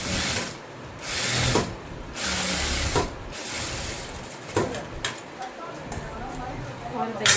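Sewing machine stitching an edge seam on a blouse, a fast whirring mechanical hum running in short bursts with brief pauses, under a voice talking.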